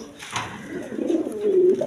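A pair of king pigeons coos close by in deep, throaty, rolling notes that build into a loud, sustained burst of cooing toward the end.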